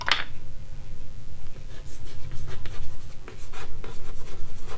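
Hand writing a verification step for a Rolle's and mean value theorem exercise, brisk scratchy strokes across a surface in a continuous close-up run, alone without speech.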